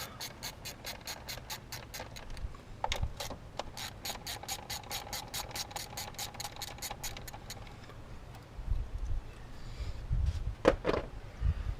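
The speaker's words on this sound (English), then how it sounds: "they are 7mm bolts. Just gonna go ahead and pop those guys loose." A ratchet loosens 7mm bolts on the throttle body cover of a Ford Ranger 2.3 engine, with rapid, evenly spaced close clicks running for several seconds, then a few scattered clicks and knocks from handling.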